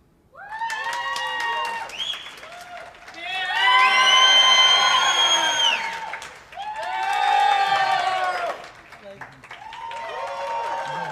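A crowd at a sales experts' showdown bursts into cheering, whooping and applause that swells loud in two big waves over about ten seconds, with scattered shouts throughout.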